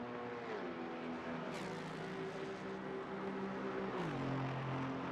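Onboard a Porsche GT4 race car at Watkins Glen, the engine drones steadily at high revs, holding pitch and then dropping twice on downshifts, a continuous mechanical roar heard from inside the car.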